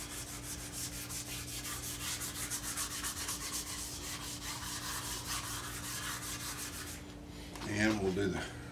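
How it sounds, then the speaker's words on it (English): A cloth lightly wipes a finished wooden pedestal table, giving a rapid, even rubbing rhythm close by that stops near the end, where a brief handling noise follows. "just giving it a nice light wiping. I'll get rid of any little dust nibs that are left in there."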